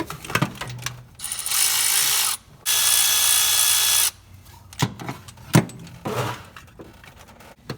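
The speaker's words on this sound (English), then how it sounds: "I'm going to use my power ratchet to take the bolts out all the way" Two long steady whirring bursts from a power ratchet spinning out starter bolts on a 2004-2015 Nissan Titan, separated by a short pause and followed by scattered metallic clicks and handling clatter close to the microphone.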